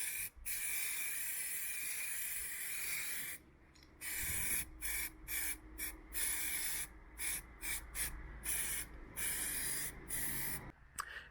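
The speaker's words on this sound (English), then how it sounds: "apply some high temperature black paint so it all looks black and nice" High-temperature black paint sprays from an aerosol can onto a welded oil sump extension for an RB26-swapped S15, in a long steady hiss followed by a string of short bursts with brief pauses between them.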